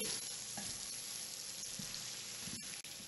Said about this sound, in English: I'm going to go ahead and saute these and cook them down along with my celery and onions